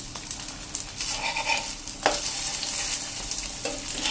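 Potato patties sizzle steadily in ghee in a pan, a loud, continuous crackling fry with occasional scraping from turning them over and no voices.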